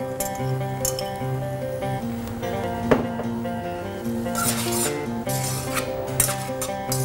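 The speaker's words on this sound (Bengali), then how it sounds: "সেদ্ধ করা পাস্তা আমরা দিয়ে দিচ্ছি এখন" Boiled pasta tipped into a pan with a spicy sauce and stirred, giving scattered metallic clinks and scraping with one sharper knock, all over steady background music.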